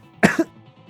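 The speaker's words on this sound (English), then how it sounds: "Suma's furious shouts and coughs and the Colossus's heavy footsteps blend together in Zachary's earpiece" A single short, harsh cough with a throat-clearing edge from a video game character, close and fairly loud, followed by near silence.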